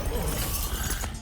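Glass shatters violently in a Mortal Kombat 1 video game trailer: a loud, dense crash of breaking glass that holds steady for about a second before tapering slightly at the end.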